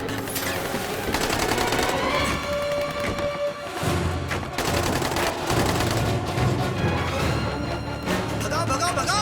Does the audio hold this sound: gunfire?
yes